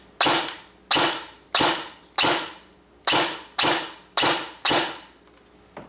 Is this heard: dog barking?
no